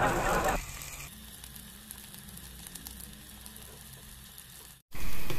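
Garlic, onion and ginger sautéing in a pan for a crab dish, giving a steady, moderate sizzle that carries on for several seconds after an initial louder burst and ends abruptly.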